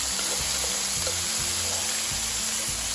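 Gyro meat browning in a pan gives off a steady, close sizzle across the whole stretch, with soft low thumps and clatter beneath it.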